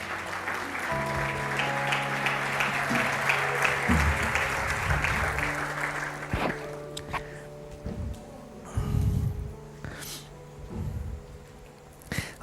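A church congregation applauds in a dense burst of clapping that fades after several seconds, with scattered voices and shuffling as the room settles.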